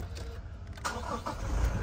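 A Toyota Prado GXL diesel engine starting up, a brief starter crank followed by the engine catching and rising into a close, throaty rumble, with no talk.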